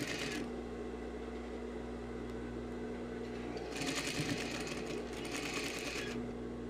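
Sewing machine stitching a dress lining along an existing seam, a steady close motor hum with continuous needle clatter that grows louder and busier in a faster burst near the end.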